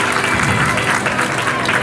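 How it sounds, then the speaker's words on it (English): A school assembly crowd gives a round of applause, loud dense clapping from many students filling the hall continuously. "Everybody, round of applause."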